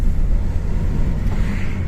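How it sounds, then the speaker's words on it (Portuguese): Strong wind gusting around a vehicle in Araraquara during a storm, a loud close rumbling roar buffeting the microphone continuously with no speech. "Mas o vento tá forte aqui, ó. Chega a tá balançando o veículo."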